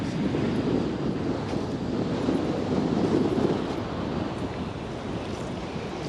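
Strong wind buffets a boat on the water during catfish fishing, a loud continuous roaring rumble of wind against the microphone with surf-like wash and no clear speech.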